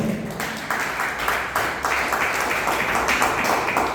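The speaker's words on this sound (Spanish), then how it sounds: "den un fuerte aplauso al Señor" A church congregation claps for the Lord in a steady, fairly loud patter of hands that continues throughout, with no voices rising above it.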